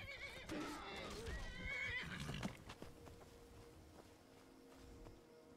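A horse in Skyrim gives a loud, wavering whinny followed by a few hoof clops, then quieter ambient game sounds.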